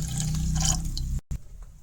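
Water is poured into a pot for a sweet potato dessert, a short close splashing pour that cuts off abruptly, followed by a few faint drips.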